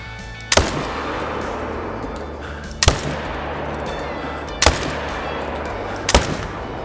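Rifle gunshots fired while hunting bison in the video game Call of the Wild, four loud, sharp cracks spaced a second or two apart, each with a short rolling tail over steady ambient noise.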